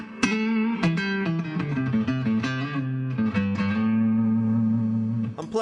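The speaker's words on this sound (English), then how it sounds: "And here's the reverb on the amp." A Raven RG60 solid-state budget guitar amp with its reverb on, playing sustained electric guitar chords and notes out of the neck pickup of a 2003 Mexican-made Fender splatter Stratocaster, with a lingering wash of reverb behind each strum, loud and close.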